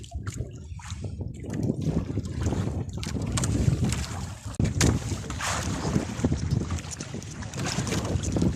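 Strong gusts of wind buffet the microphone over the churn of water and a boat moving through waves, loud and continuous.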